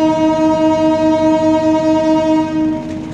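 The KA Singasari passenger train pulls out of Krupuk station in Tegal Regency, sounding a loud, sustained multi-tone horn up close that fades slightly near the end.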